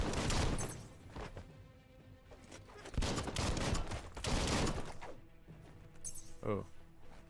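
Gunfire from a gun in Biomutant crackles in repeated rapid bursts with metallic clinks between them, loud at first, then quieter toward the end, while a voice speaks briefly.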